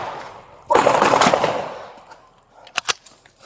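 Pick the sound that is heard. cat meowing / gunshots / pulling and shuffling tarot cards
gunshots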